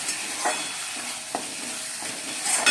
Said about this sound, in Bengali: মশলা ভালো করে কষিয়ে নিচ্ছি